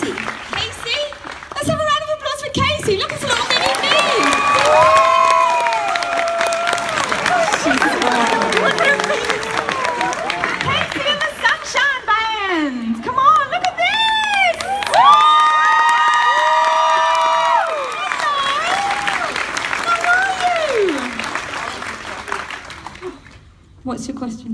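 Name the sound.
audience applause and cheering for Casey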